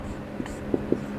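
Chalk or marker writing on a board during a maths lesson, heard as a few soft, brief scratchy strokes close by in a quiet room.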